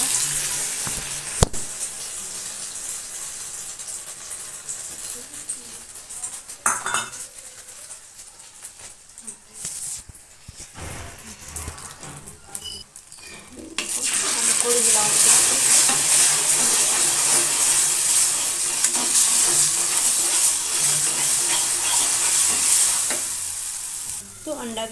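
Egg mixed with salt, green chillies and onion fries in oil, starting with a quieter stretch of clatter before a loud, dense, close sizzle surges in and holds steady to the end.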